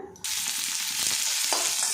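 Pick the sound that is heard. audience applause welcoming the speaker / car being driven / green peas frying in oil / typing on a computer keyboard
green peas frying in oil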